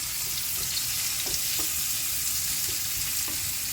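Vegetables sizzle and fry steadily in extra virgin olive oil in a pan for a Greek baked omelette, with a few stirring clinks, close and continuous without talk.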